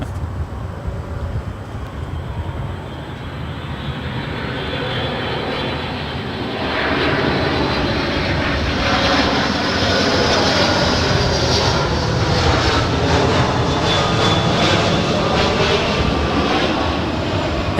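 Delta Airlines Boeing 757-200 airliner arriving at LAX, a steady loud jet engine roar that swells after a few seconds and holds, broad and rumbling throughout with no talk.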